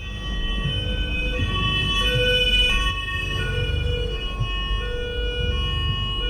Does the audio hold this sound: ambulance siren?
yes